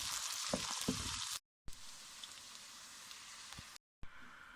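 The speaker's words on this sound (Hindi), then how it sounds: "प्याज फ्राई हो चुके हैं" Onions frying in a hot pan, a dense, close sizzle with a few brief stirring scrapes, broken by two short silent gaps.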